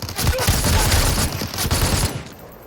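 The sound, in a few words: gunfire in an esports shooter video game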